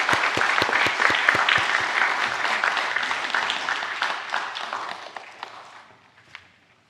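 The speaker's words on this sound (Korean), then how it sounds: "우리 남선교 회원 여러분 더 힘차게 교회를 위해 헌신하고 봉사하시도록 우리 격려의 박수 한번" A church congregation applauds in encouragement, starting loud with crisp nearby claps, then thinning out and fading to a few scattered last claps before going quiet.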